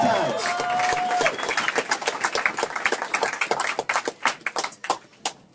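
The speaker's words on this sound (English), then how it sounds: "Let's give a round of applause for Burlington" Crowd applause at Burlington Mayor Miro Weinberger's election victory speech, a dense burst of clapping that thins into scattered individual claps and fades out, with a brief whistle near the start.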